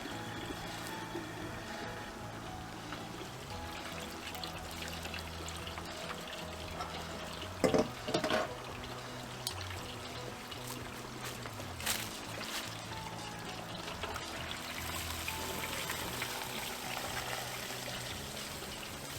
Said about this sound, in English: You gotta make sure you let all of the oil drain from the cavity